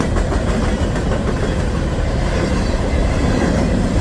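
A freight train of quick discharge hopper cars rolls past close by with a loud, steady rumble and a faint clickety-clack, with no voices.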